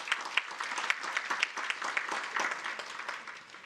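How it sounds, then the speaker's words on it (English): Steady applause from an audience at a talent summit, a fairly distant wash of many hands clapping with a few sharper claps standing out, lasting throughout. "one more big round of applause"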